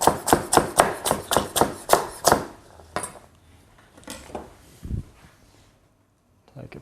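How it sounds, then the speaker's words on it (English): Half a carrot being chopped into cubes on a cutting board for vegetarian nachos: a quick run of about nine sharp, evenly spaced knife strikes, then a few scattered softer taps and a thud. "I've got about half a carrot. Just chop in the same manner."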